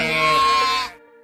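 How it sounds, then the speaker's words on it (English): A cartoon sheep gives a single short bleat, loud and close, that ends abruptly and leaves a brief ringing tail. "The baby is a lamb, and its mom there is a sheep."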